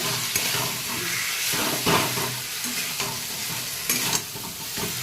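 Crab masala sautés in a hot pan with a steady, close sizzle and hiss, broken by scraping stirs and small bursts of spatter throughout, with no voices.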